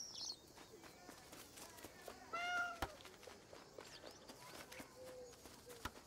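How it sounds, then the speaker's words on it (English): A glitchy cat in the video game Alba: A Wildlife Adventure gives a short, faint meow amid soft bird calls and ambient game sound, with brief clicks around it. "Glitchy cat."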